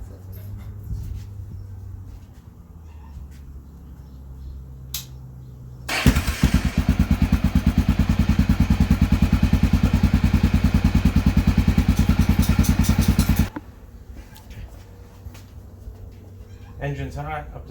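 A hot Honda XR650L motorcycle engine starts and idles with a steady, rapid chugging for several seconds before cutting off; quieter background noise and a dog's whimper surround it.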